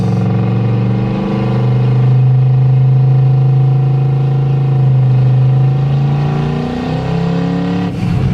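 A car's freshly installed engine on its first drive, revving under throttle with a steady loud drone that rises and falls in pitch, ending with a sharp whoosh from the blow-off valve.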